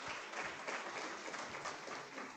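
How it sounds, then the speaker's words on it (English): Audience at a history lunch talk gives a sustained round of applause, a dense, steady wash of clapping at moderate distance with no voices over it. "let's give our friends from the Emmett Till Interpretive Center another round of applause"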